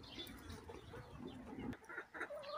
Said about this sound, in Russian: А здесь у меня курочки.